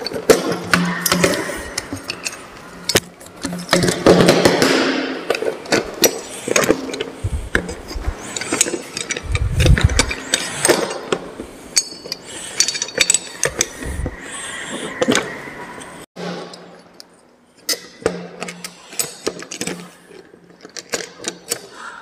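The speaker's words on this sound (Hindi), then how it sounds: "ये जो आप मल्टी व्हील चैन पाइप कटर देख रहे हैं तो इसके द्वारा पाइप को कैसे काटेंगे यह देख लें।" A multi-wheel chain pipe cutter is fitted and set onto a pipe, giving close, irregular metallic clicks, rattles and clatter in uneven bursts, with brief quiet gaps.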